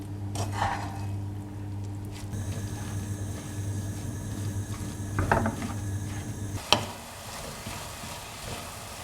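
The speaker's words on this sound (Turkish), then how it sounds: "Üzerine 2 kahve fincanı sıvı yağ ilave edip kavuruyorum" Finely grated carrots sauté in oil in a pan, giving a steady soft sizzle with occasional stirring scrapes and a sharp clank near the end, over a low background hum.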